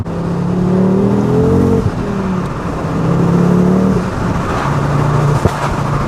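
A Ford Focus RS MK2 fitted with a Milltek exhaust accelerates hard in second gear, its loud engine note climbing in pitch, easing briefly, then pulling again with a raspy exhaust roar throughout.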